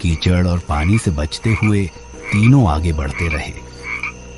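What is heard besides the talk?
frogs croaking in the distance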